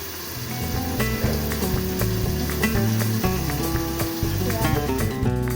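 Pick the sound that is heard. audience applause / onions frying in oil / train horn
onions frying in oil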